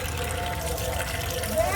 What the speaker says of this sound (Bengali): এই যে মাছগুলো এবার আমি ধুয়ে নিচ্ছি।